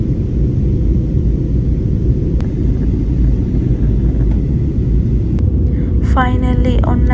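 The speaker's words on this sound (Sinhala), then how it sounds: "We have landed at Kuala Lumpur International Airport Terminal 2" An Air Asia airliner landing at Kuala Lumpur International Airport Terminal 2, heard as a loud, constant broadband cabin roar and rumble throughout, with a few faint clicks and a brief voice near the end.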